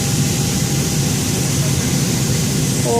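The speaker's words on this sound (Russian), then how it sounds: "Самолет." Steady, loud broadband roar of a passenger airplane's jet engines in the cabin as the plane starts its takeoff, continuous and even throughout with no talk over it.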